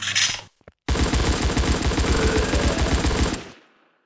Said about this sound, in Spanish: Aquí vamos a empezar a disparar.